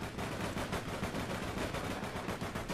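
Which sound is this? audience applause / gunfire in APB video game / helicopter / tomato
gunfire in APB video game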